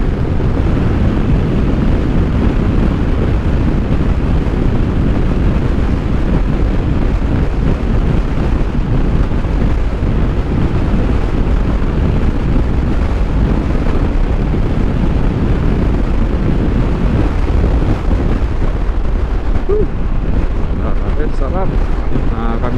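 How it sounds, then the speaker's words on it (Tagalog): Strong wind roaring over the microphone while riding a Honda ADV160 scooter on a bumpy road, a loud continuous buffeting rush that masks everything for the whole stretch. "Lakas ng hangin."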